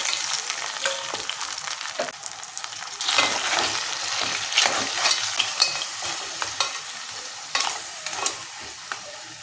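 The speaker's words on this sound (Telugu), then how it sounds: "ఇప్పుడు దీనిలో పీతలు వేసేస్తున్నానండి." Crabs tossed into a hot pan with green chillies crackle and sizzle steadily, with repeated scraping stir strokes from a spoon and no talking.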